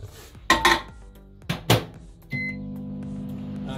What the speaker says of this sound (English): So now we're gonna put it in the microwave.